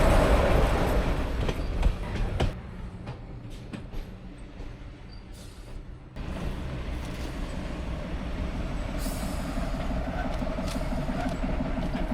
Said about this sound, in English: Let's watch the locomotive shunt to the other side of the train.